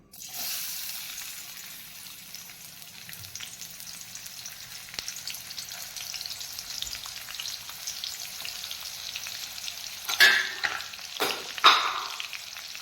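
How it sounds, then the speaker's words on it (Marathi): Onion frying in hot oil for a rasa bhaji, a steady, fairly faint sizzle that continues for several seconds, with louder stirring scrapes and sloshes near the end. "तेल तापलं की आपण त्यामध्ये कांदा घालून घेऊया"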